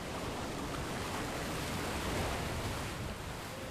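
Ocean surf breaking steadily in the surf zone of a far-northern coast where eider ducks feed, a continuous loud broadband wash of waves with no voices.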